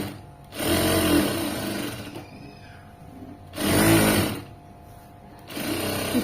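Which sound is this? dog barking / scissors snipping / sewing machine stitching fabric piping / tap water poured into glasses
sewing machine stitching fabric piping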